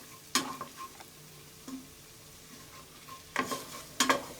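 Pav bhaji vegetables being stirred with masala in a pan, soft scraping and mixing under a low sizzle, punctuated by several sharp clacks of the spoon on the pan, close up with no talk.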